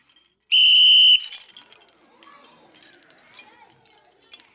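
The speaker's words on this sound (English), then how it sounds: "This next one's called the engineer's whistle. It's also known as a double whistle." An engineer's double whistle gives one loud, shrill, steady blast lasting about half a second, followed by soft clinks and quiet handling noises.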